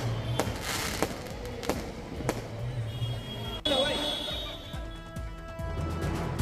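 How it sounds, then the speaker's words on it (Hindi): Fireworks bursting at a Dev Diwali celebration beside a lit-up temple, several sharp bangs and crackles at irregular intervals over a steady crowd murmur with people talking. "देव दिवाली के मौके पर जमकर आतिशबाजी।"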